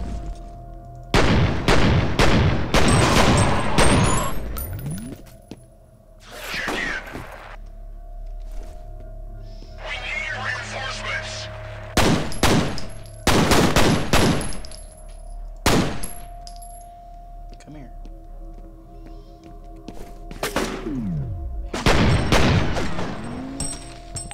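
Pistol gunfire in the shooter video game F.E.A.R., with sharp, loud shots fired in repeated bursts over a steady, rumbling combat background and no talk.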